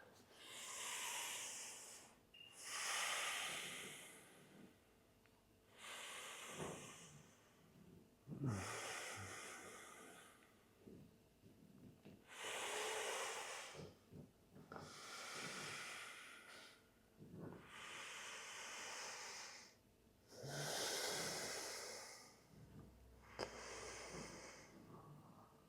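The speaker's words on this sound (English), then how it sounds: "Inhale through the nose, exhale through the nose." Slow, steady breathing in and out through the nose during a breathwork meditation session, with about eight hissing nasal breaths in an even rhythm, close and fairly soft, with no talking.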